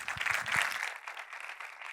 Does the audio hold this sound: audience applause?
yes